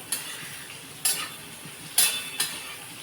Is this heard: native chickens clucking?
no